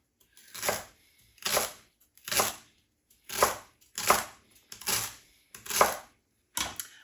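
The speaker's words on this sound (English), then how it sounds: "And then we'll just give that a chop." A knife chops vegetables on a cutting board while chicken soup is being prepared, giving eight separate scraping, rasping strokes in a fairly steady rhythm, close and clear, with quiet gaps between them and no talking.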